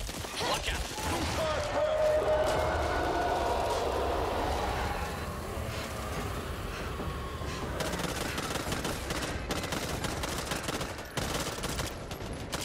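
Steady video-game gunfire from Back 4 Blood, loud and continuous throughout with rattling bursts and impacts, and voices calling out now and then over the shooting.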